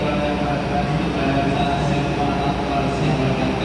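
The Malioboro Express economy-class train departs the station in a loud, steady rumble of rolling wheels and carriage noise, with a voice talking over it.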